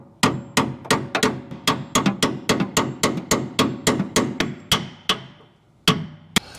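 A hammer strikes a Chevrolet Suburban suspension part near a grease fitting, about twenty sharp metallic taps in a quick, even rhythm, close and loud, then slowing to a few spaced final hits.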